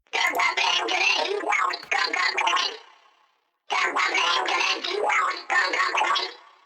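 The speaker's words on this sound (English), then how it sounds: "the final optional step is adding delay." Processed Splatoon-style vocal gibberish with flanger and delay, two dense bursts of voice separated by a brief silence, with trailing echo fading out of each phrase.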